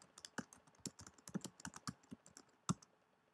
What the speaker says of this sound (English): we can type in our